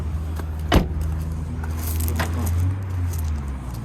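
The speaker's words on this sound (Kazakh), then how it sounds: "Багаж ачылды" A car's trunk lid is opened at a Bishkek used-car market, giving one sharp latch clunk near the start, then a steady low rumble of engines and ambient market noise.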